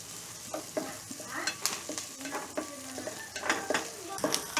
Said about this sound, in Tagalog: Nagisa na po natin yung bawang at sibuyas.